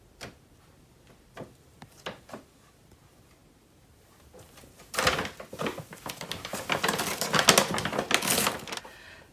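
Cats play inside a paper grocery bag and chew at it, sparse crinkles and taps at first, then a burst of loud, busy crackling and tearing rustles near the microphone.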